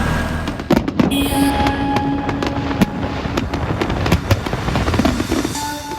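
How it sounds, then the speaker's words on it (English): A fireworks show in Cannes, France, heard up close, with repeated sharp bangs and crackling bursts at irregular intervals over a steady rumbling background. "we were surprised to learn we had front row seats to a great fireworks show"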